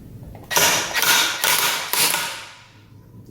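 An impact wrench removes crankcase bolts on a 1996 Sea-Doo GTX, hammering in four quick, loud rattling bursts in close succession before fading out.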